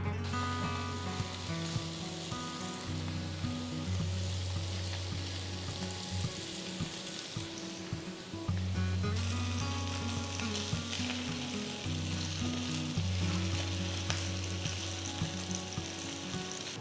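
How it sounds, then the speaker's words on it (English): Paneer pieces frying in ghee in a pan, a dense continuous sizzle with faint stirring, close and steady throughout. "So next we are going to fry the paneer pieces to a pan, add a little ghee."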